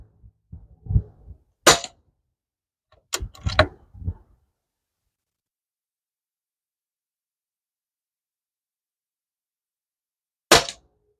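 Pinty P-Force air rifle firing pellets outdoors at a rested 25-yard target: a few sharp, separate reports spaced seconds apart, loud and close, with a low thump before the first shot and long quiet gaps between.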